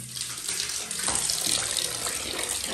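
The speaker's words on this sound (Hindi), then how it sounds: "ये देख ठंडा ठंडा पानी" Cold tap water runs steadily and loudly from a faucet while a shih tzu dog is being bathed, a continuous close rushing splash with no talk over it.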